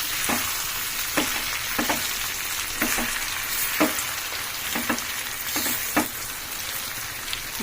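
Food frying in a hot pan while a spoon stirs it, a steady dense sizzle throughout with soft scraping strokes every second or so, close and fairly loud.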